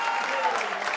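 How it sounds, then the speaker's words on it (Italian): Football stadium crowd at an Italian lower-league match applauds a player, a dense, continuous wash of clapping and crowd noise from a distance, briefly, under a faint voice. "si prende gli applausi che devo ammettere sono meritati"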